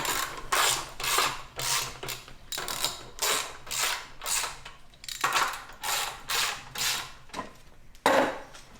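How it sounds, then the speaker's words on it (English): A hand ratchet tightens bolts on wooden posts for a raised garden bed, giving repeated rhythmic clicking bursts close by, about a dozen strokes with brief pauses between them. "Here we just grab our ratchet and we tighten those bolts up."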